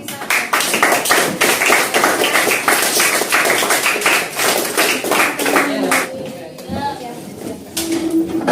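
A classroom of students applauding together at the end of a social studies lesson, loud dense clapping that runs several seconds, then thins out as voices take over.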